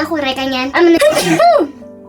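A voiced, drawn-out sneeze-like burst, loud and close, with strained tonal wailing quality, as though a person is exaggerating or imitating sneezes in two rising bursts.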